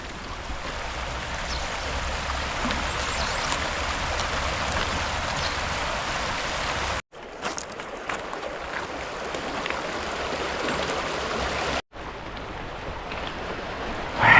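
The Guadalevín river flows near its confluence with the Guadalcobacín, a steady broadband rush of water heard close and continuous, with two brief dropouts partway through.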